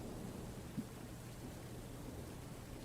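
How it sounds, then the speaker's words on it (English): Steady rain falls outside a house in a video game, a faint, even wash of noise with an occasional soft low rumble and no voices. "It's too cold outside and the rain is getting heavier by the minute."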